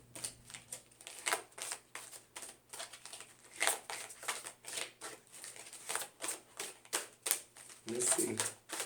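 Tarot cards are shuffled in a steady run of crisp, riffling bursts, close and fairly quiet, repeating in an even rhythm with a soft electrical hum beneath.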